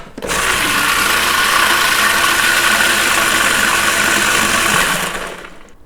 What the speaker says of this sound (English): Just blend it up again.